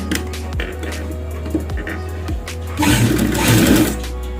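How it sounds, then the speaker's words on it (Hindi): Sewing machine stitching a fabric mask with elastic, short whirring bursts of needle chatter separated by brief pauses, then a longer, louder run of fast stitching, close and clear. "आप यहाँ से सिलाई लगाते हैं।"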